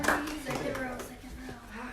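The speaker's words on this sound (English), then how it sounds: "give Amanda a round of applause for being late" A small seminar audience claps for Amanda, a short uneven patter of hands mixed with people talking over it.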